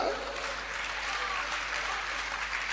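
An assembly hall audience at a Jain religious discourse in Rishabh Vihar, Delhi, claps steadily and loudly throughout, a continuous wash of many hands with a faint voice underneath.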